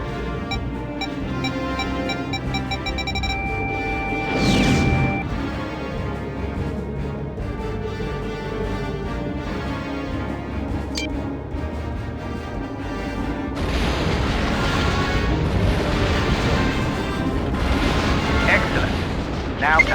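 Warhead torpedo launches in the Star Wars TIE Fighter space combat game: booming blasts and whooshing roars over a continuous engine drone and game music, with a louder rumbling surge in the second half.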